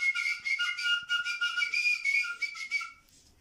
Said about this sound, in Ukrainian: На сопілці вміє грати.